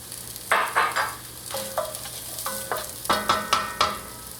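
Tasso crackles in hot grease in a pot as it is stirred, with about a dozen quick, close stirring scrapes and bursts of sizzle in an irregular rhythm over a low steady hiss.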